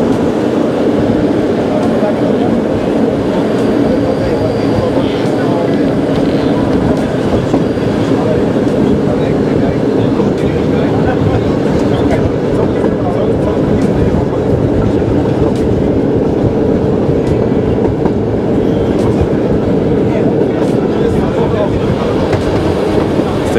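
An SU45 diesel locomotive hauls a train on a rail line, the steady loud rumble and rhythmic wheel clatter continuing throughout as the train runs and brakes, heard close from inside the rear carriage.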